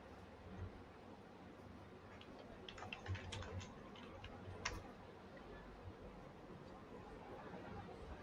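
Quick, light keystrokes on a computer keyboard ticking faintly in bursts under a low background hum, with some distant chatter during a livestreamed poker tournament.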